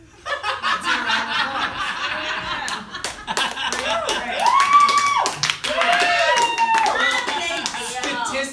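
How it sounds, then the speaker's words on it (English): Audience at a comedy show breaking into sustained applause mixed with laughter and chuckles, a loud close crowd clapping steadily for several seconds with scattered voices. "Let's hear a round of"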